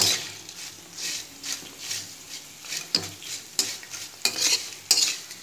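Potato chips fry in hot oil with a soft sizzle, broken by repeated clinks and scrapes of a spatula against the pan in uneven bursts, close by and with no voices.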